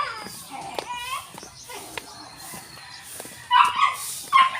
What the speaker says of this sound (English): A lot of dogs.